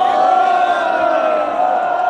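A dense crowd at a Workers' Party election rally in Punggol, Singapore, roars and jeers in a steady, loud, sustained wash of many voices with no single speaker standing out.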